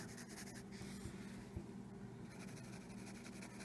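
Pencil drawing on paper, a soft continuous scratching and rubbing of graphite strokes, close but faint, with no talk.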